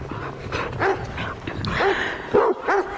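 A dog barks in a snowy yard, a few sharp barks and yelps at a moderate distance over a low background rumble.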